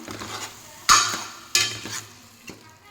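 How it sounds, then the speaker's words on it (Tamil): Tomato paste being stirred into onion paste in a pan, with a few distinct scraping strokes of a spoon against the pan over a soft sizzle of frying. "இப்போ மிக்ஸ் பண்ணிக்கலாம்."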